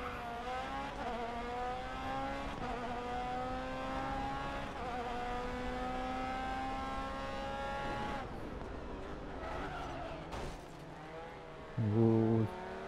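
Open-wheel race cars in the Grid Autosport racing game whine steadily with rising and falling engine pitch through gear changes, a dense close engine drone with other cars nearby and a brief louder knock near the end.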